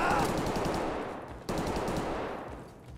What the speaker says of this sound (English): Oh, he's blind firing.